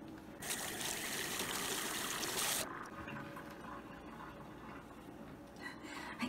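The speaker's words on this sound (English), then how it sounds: "Okay, it's time to rinse that out." Water gushes loudly from a faucet to rinse out a counter cloth, a steady broadband rush for a couple of seconds, then easing to a softer trickle and dribble as the flow is reduced.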